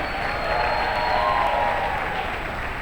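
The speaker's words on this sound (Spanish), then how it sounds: "Póngale a ese aplauso un grito de victoria." A church congregation breaks into steady, sustained applause during a Spanish-language sermon, with a continuous wash of clapping and crowd voices filling the room.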